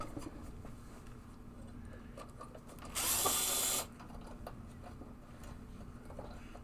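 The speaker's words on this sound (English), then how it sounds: "Now I have to take the screws off the end here." A screw is backed out of a Williams Travel Time pinball playfield with a small power driver, giving one steady buzzing whir of about a second amid faint handling noises and room hum.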